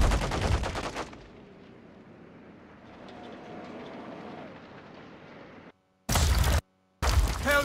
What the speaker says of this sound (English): Shoot the enemy, Benjamynn.